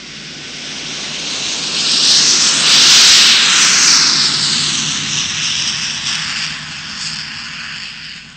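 A de Havilland Comet 4 jet airliner roars overhead, its broad rushing whine swelling to a peak as it passes close, then slowly fading as it moves away.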